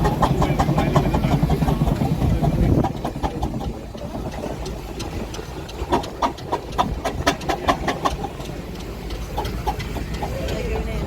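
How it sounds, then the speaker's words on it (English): A steady, low mechanical engine rumble from a full-size steam traction engine runs throughout, with rhythmic chuffing pulses in the second half and voices talking over it. "And so that is the full-size steam engine."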